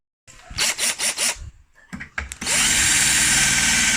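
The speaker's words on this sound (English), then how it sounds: "I'm going to drill another hole through there and then put that on" A power drill whirs in several short bursts, pauses, then runs continuously at high speed, loud and close.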